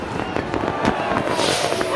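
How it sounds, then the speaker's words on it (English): Fireworks set off at midnight crackle and pop in quick, uneven bursts, loud and close, with what may be faint voices mixed in. "At midnight, the boys light fireworks"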